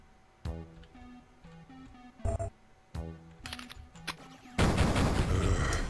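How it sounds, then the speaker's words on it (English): Chain gun in the Duke Nukem 3D video game, rapid mechanical shots in short bursts with sharp clicks and pauses, ending in a louder noisy blast, no talk. "I'm trying to shoot the chain gun up there"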